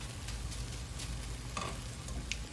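A veggie omelette with cheese sizzles steadily in a frying pan, a soft continuous frying hiss with faint crackles, close and alone with no talking.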